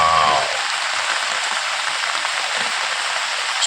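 Heavy rain pours down in a steady, dense hiss over waterlogged vegetable plots, unbroken and loud throughout.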